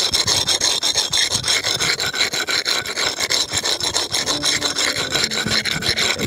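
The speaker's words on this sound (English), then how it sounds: "you want to give it a good old rub down with a brick rub" A brick rub is scraped hard back and forth across a concrete skate curb, producing a continuous coarse rasping with steady rhythmic strokes, loud and close with no talking.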